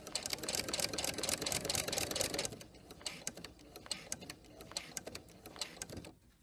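A sewing machine stitches through a quilt in quick rhythmic bursts of rapid clicking, loud and close at first, then in lighter, shorter runs.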